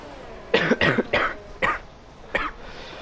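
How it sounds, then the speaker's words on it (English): A man coughing in a dry, repeated burst of about four close, loud hacks, then a pause and one more cough, with no talk over it. "Oh, this goddamn cough needs to go away."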